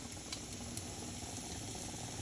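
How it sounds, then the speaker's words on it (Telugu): Pomfret fish fries in a little oil in a nonstick pan, giving a steady, dense sizzle with fine crackles. It is close but fairly quiet, and there is no talking. "లంచ్ టైం అయింది, చక్కగా వేడివేడిగా ఫ్రై చేస్తున్నాను అనమాట."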